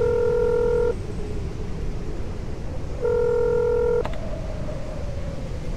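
Two short bursts of electronic mobile phone keypad dialing tones in a video game, separated by a pause, over a steady low background rumble, followed by a faint soft tone.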